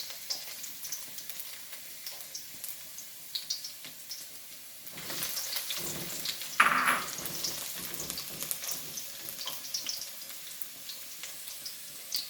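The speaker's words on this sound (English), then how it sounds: "we're tossing in our garlic cloves" Garlic cloves frying in a pot for jerk pork fried rice, a steady soft sizzle with a few clinks and stirring noises, swelling briefly louder midway.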